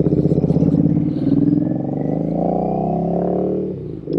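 A Royal Enfield Interceptor 650 motorcycle fitted with an S&S exhaust pipe revs up close and loud, a deep throbbing engine roar that rises and holds before easing off near the end.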